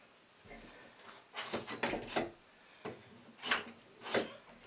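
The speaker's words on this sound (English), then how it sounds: "And shut the door." An interior door is pushed shut after its latch has been replaced, giving a series of soft wooden knocks and latch clicks at close range with no talking.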